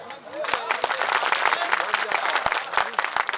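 Audience applause at a kavi sammelan poetry recital held during a festival, a dense burst of many hands clapping close and loud, steady throughout with some crowd noise mixed in.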